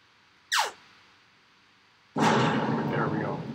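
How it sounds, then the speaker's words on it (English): A barrel explosion sound effect in a Phaser 3 video game: a short descending burst, then after a pause a louder, sustained explosive rumble that fades slowly. "have this barrel explosion sound happen every time the alien touches a missile"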